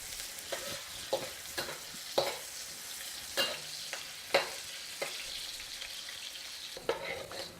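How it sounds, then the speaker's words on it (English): About three-quarters of a cup of chopped onion stir-fried in a pan until light golden, a steady close sizzle broken by sharp scraping stirs roughly every second, with no talk. "they want us to stir fry this until it gets a little golden brown"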